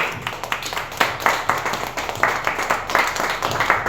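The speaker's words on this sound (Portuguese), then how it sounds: "Aplausos a Ele." A church congregation applauds together at a service, with steady, close clapping in uneven bursts and no talking over it.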